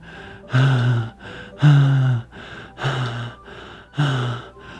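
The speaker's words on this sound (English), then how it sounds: "It sounds like breathing. A sharp inhale, like someone is sucking the air through their teeth." Four sharp inhales drawn through teeth, evenly spaced about a second apart, close and loud, each a hissing rasp with a voiced edge, heard in the Doki Doki Literature Club game.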